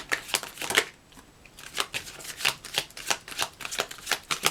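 A deck of tarot cards is shuffled by hand in quick riffling bursts, crisp close papery flutters in a brief repeated rhythm with a short pause partway through.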